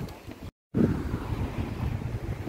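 Strong gusts buffet the microphone with a dull, roaring rumble, briefly cutting out to silence before the blustery noise returns steadily.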